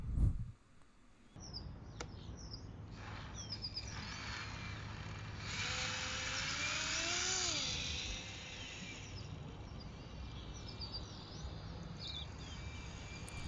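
A micro FPV airboat built from drone parts and balsa wood runs on a lake, giving a thin, steady propeller whine at a moderate distance that swells briefly in the middle and then settles.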